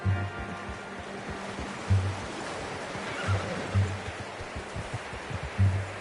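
Horse in Red Dead Redemption 2 giving several short, low snorts and whinnies at irregular intervals, close by, over a soft steady background of ambient noise.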